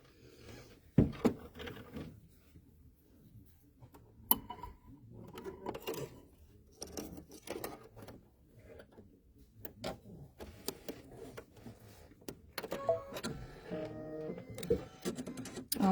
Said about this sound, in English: we're going to stitch the placement line for the top of our house.